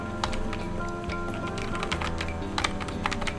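Rapid, uneven clatter of keys on a computer keyboard as a prompt is typed into ChatGPT, close and continuous with brief pauses and bursts of faster strokes.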